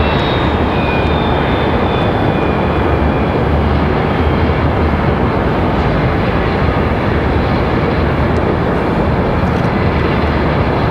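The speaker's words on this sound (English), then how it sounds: "It's crazy how you can hear those fan blades" Loud, steady roar of an airliner's engine fan blades at Raleigh-Durham International Airport, broadband and continuous for the whole stretch, with a faint high whine drifting across the start.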